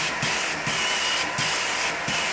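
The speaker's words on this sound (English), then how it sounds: "I'll try to show you how I put down my freeze spray in a lot of cases here." Freeze spray misted onto a carpet in repeated short hissing bursts, about four evenly spaced sprays against a steady background whir, close and fairly loud with no talk.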